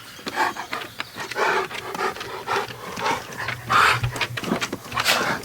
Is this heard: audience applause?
no